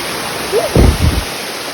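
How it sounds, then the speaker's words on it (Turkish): A waterfall roars steadily and loudly near Sinop, one of a chain of 28 cascades along a climbing route. A brief voice-like sound rises over it partway through. "16. şelaledeyiz ve 28 tane varmış."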